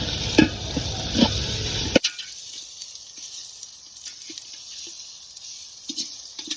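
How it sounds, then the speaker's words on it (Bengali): Ginger garlic paste is stirred and fried in a pan during rooftop cooking: a loud sizzle with scraping strokes for about two seconds, then it drops away to quiet, leaving a few faint clinks. "এই যে আদা রসুন বাটা এই যে নাড়াচাড়া মারো ভাই"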